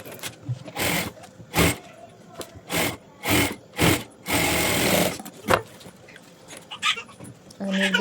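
Sewing machine stitching sleeves onto a blouse, running in short bursts of a second or so with pauses between, close and fairly loud, with a longer stretch of stitching near the middle and some faint background noise.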